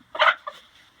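Two quick clucks from a chicken nearby in a straw-bedded coop during a -20 F cold snap, the first louder and fuller, the second shorter and softer, with no talking.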